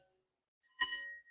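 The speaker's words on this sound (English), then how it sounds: "the bells" One light bell rings out once, clear and bright, its tone lingering and fading after a near-silent start.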